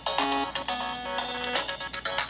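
An old LG mobile phone plays a ringtone, a bright electronic melody of short, clean synthetic notes repeating in a quick rhythmic pattern, close and clear with nothing else audible.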